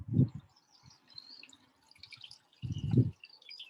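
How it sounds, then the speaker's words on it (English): Water pours onto potted seedling compost in two short close bursts, with soft trickling and dripping between them in a quiet setting. "that is such a relaxing sound, the sound of running water"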